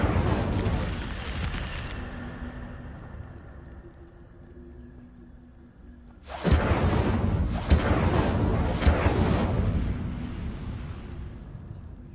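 An Incendio fire spell is cast in the Hogwarts Legacy video game, a loud whooshing blast that fades away, then a second fiery roar that bursts in and sustains with crackling peaks.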